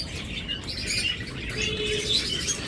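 Caged lovebirds and cockatiels chirp and tweet in short overlapping calls, with some soft cooing and faint wing flutters, the chatter steady and fairly close.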